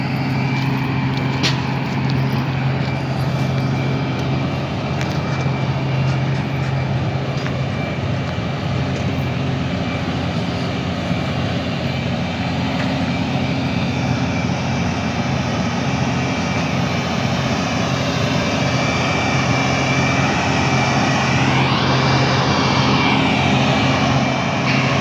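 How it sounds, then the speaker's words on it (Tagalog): A generator runs steadily close by behind a building at dusk, a continuous loud droning hum with a low tonal hum throughout and no voices. "Malapit sa generator, kaya open yung generator kasi dito tayo sa likod mismo"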